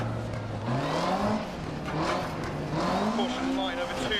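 An Opel Manta 400 rally car in the video game Dirt Rally, its engine note rising and falling through gear changes with some tire noise, loud and steady over someone talking.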